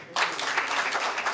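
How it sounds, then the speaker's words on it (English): Applause from an audience at a launch event breaks out suddenly and continues as a dense, steady wash of many hands clapping, fairly loud and with no talking over it. "Let's give him one more round of applause"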